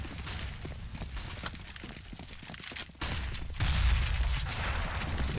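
Gunfire in a Counter-Strike match on the Cache map, with rapid bursts of shots and sharp cracks layered over dense game noise, loud and busy throughout with a louder surge toward the end.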